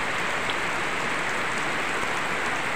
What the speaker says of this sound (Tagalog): Yan, medyo malakas yung ulan.